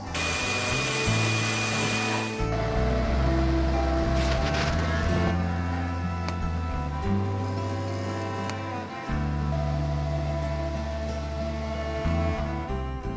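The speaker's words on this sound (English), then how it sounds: "drill a hole through this" A power drill whines loudly and steadily, its pitch rising and dropping as it bores a hole through an engine part, running almost without pause.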